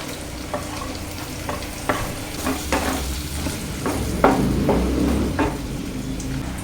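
Sliced onions cooking in a pan, with repeated distinct spoon scrapes and stirring strokes over a steady close sizzle, about a dozen clear strokes, no speech.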